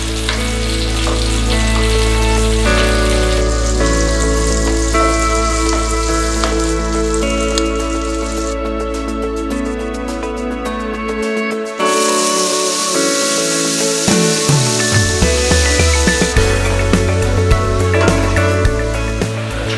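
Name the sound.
salmon frying in butter, skin side down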